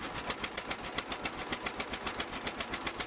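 John Deere Model A tractor engine running with an exhaust leak between the manifold and the exhaust pipe, giving a steady rapid chuffing pulse, fairly quiet, with no talk.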